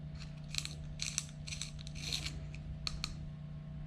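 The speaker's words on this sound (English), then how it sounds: "To sharpen my pencil." A pencil is sharpened by hand in a series of short, scratchy grinding bursts, about seven in under four seconds, close and fairly quiet. A steady low hum sits underneath.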